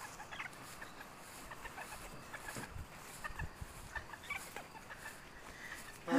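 Chickens and a silver rooster on the roost in a barn at night, soft scattered clucks and murmurs, quiet and close, with a brief louder sound at the end.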